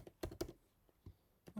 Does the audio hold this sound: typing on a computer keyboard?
yes